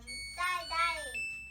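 A Samsung washing machine being switched on plays a short, faint electronic jingle of bright tonal beeps lasting about a second and a half.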